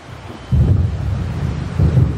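Thunder rumbles with wind ahead of a coming storm by a lake in the video game Alan Wake, two loud low rolls, the second rising near the end, over a constant windy wash.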